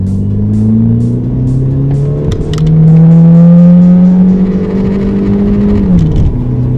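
A 2003 Volkswagen Golf 1.6 automatic accelerates at full throttle, its engine note droning loud and close, with rising tones as it climbs through gears and a brief dip near the end.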